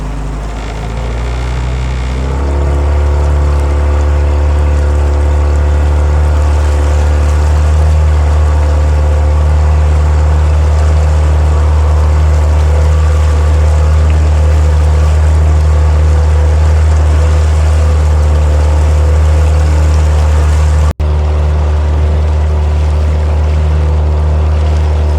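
Motorboat engine revving loud and close on the water, a low droning roar that climbs in pitch over the first few seconds and then holds steady and strong throughout.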